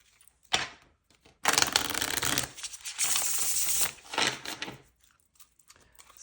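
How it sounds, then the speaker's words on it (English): Tarot cards riffled in a single shuffle at close range, a few dense papery bursts of flicking and slapping with brief pauses between, no talking over it. "I'll just give it one shuffle."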